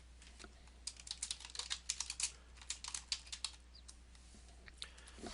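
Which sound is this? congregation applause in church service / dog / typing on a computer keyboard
typing on a computer keyboard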